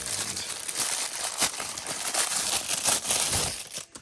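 Paper packaging crinkles and crumples continuously around a Marvel Legends Iron Spider action figure being unboxed, close and fairly loud, with busy crackling bursts throughout.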